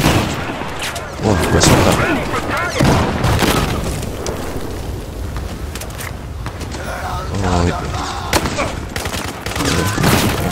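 Battlefield 4 combat gunfire crackles in dense, loud bursts of shots and booms, with a player talking over the shooting.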